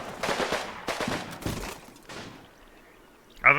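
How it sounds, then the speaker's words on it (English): Artillery fire in the Combat Mission video game: a quick series of sharp booming blasts in close succession, then a fading rumble and one more loud impact at the end. "American artillery is falling there"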